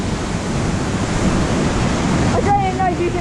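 Loud, steady roar of Tvinnefossen waterfall in Norway, heard from nearby as a dense continuous rushing wash, with a brief voice near the end.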